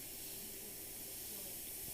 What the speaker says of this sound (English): Again, this is really spraying very well